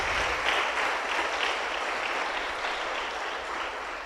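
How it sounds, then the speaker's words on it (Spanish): A church congregation claps in sustained, dense applause, a steady wash of many hands that carries on evenly throughout. "Dele palmas a Jesucristo."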